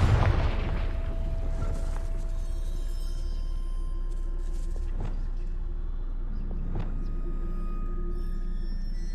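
A Confringo fire spell blasts in the Hogwarts Legacy video game: a deep booming explosion opens loud and rumbling, then fades into lower rumble with a couple of smaller impact thuds over a continuous low game drone.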